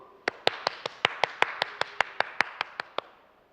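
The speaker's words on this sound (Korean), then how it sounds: "박수!" A single person clapping slowly and steadily, about fifteen sharp, evenly spaced claps heard close up at a rooftop party, with faint background sound and no talking.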